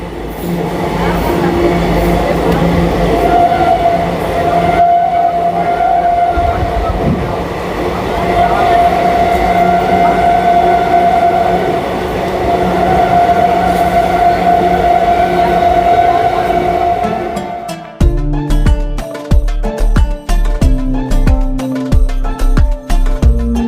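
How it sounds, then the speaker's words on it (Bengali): A passenger train on an Indian suburban line rolls through stations and pulls into Naihati Junction, a steady loud rumble of the carriage giving way near the end to rhythmic clattering of wheels over rail joints. "আমাদের ট্রেন ঢুকছে নৈহাটি জাংশন স্টেশনে"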